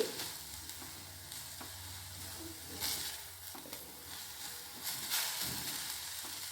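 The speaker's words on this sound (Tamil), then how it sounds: "தேங்காய் பூ சேர்த்து நல்லா பெரட்டி விட்டுறலாம்" Spinach with grated coconut stir-fried in a pan, giving a quiet, steady sizzle broken by a few scraping tosses of the spatula, close by with no talk.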